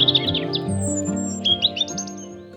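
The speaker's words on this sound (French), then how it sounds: "le chant distinctif du rouge-gorge résonne souvent dans l'air" A European robin sings in a series of high, thin chirping phrases over a steady low musical background, near and fairly clear.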